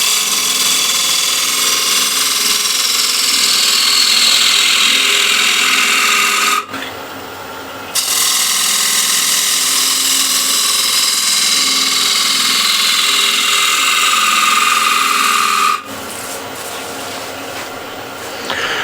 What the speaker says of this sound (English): for the hollowing, I'm going to use this 1/2 inch diameter ball gouge